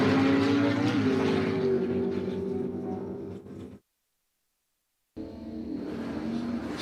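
A Firebird drag racing car at Empire Dragway launches with a wheel stand, its engine a loud sustained roar that cuts out abruptly and then resumes.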